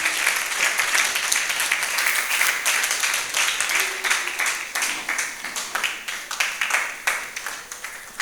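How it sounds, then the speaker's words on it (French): A church congregation claps and cheers for the King of Kings at a French-language worship service, a steady broadband wash of applause with scattered sharp claps, close and fairly loud, fading somewhat toward the end. "Est-ce qu'on peut acclamer pour le roi des rois?"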